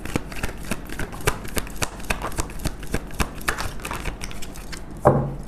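A deck of tarot cards is shuffled close up, giving a steady run of crisp, papery flicks and riffles for several seconds, ending with a slightly louder tap or clack, with no talking.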